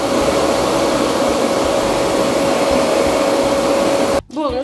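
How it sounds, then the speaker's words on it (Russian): Vacuum cleaner running loud and close with a steady whooshing roar that cuts off abruptly near the end, followed by a short sound from a person. "Ну давай уж пылесосить"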